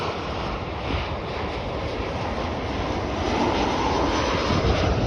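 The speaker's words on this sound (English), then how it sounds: "that is a Boeing 737-823 American Airlines driving in from Nashville" American Airlines Boeing 737-823 taxiing in at Chicago O'Hare on a morning, a steady loud jet-engine roar with broad wind-like rushing, growing slightly louder toward the end.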